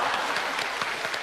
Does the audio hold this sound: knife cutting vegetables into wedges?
no